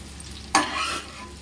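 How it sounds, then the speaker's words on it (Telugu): Cauliflower pickle mixture frying in oil in a pan, heard as a short burst of sizzling as it is stirred, rising sharply and fading after about half a second over a quiet background. "ఇలా పచ్చి వాసన పోయేదాకా వేగిందండి"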